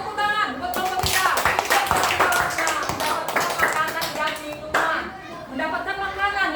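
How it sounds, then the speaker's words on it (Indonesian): Applause for a group of students in a classroom lesson, a burst of scattered hand clapping heard under a voice and raised speech that carry over the clapping and continue as it fades. "tepuk tangan buat kelompok 3"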